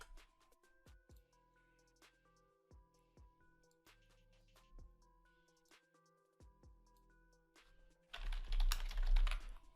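Keys on a computer keyboard being typed to enter a command in a Windows command prompt, a quiet close run of separate clicks at an uneven pace, ending in a louder burst of noise.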